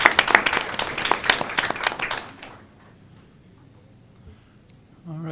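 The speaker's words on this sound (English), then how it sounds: "how about a nice round of applause for all of our award recipients" Audience applause at a school board meeting: a dense burst of clapping for award recipients that fades out after about two seconds, leaving a quiet room, with a voice starting up at the end.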